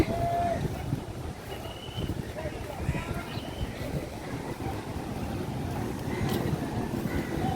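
Strong wind on the seafront at Digha buffets the microphone in a continuous low roar, with people talking faintly in the background.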